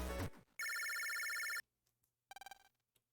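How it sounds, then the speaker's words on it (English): Video game phone call alert: a loud electronic ring with bright harmonic tones sounds for about a second, then drops away. A shorter burst of quick pulsing rings follows, with no voices over it. "looks like a phone call for you"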